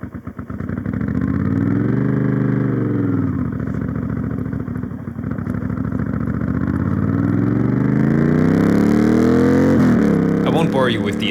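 A motorcycle ride captured on a chest-mounted GoPro: a loud, steady engine drone rising and falling with throttle through gear changes, close and continuous, with a voice talking over it.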